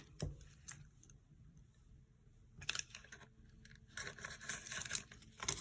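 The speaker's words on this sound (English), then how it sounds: "Go ahead and tear it all the way across." An MRE beef strips pouch torn open by hand, a sharp initial rip followed by quiet handling, then a longer crackling tear of packaging, close and fairly faint.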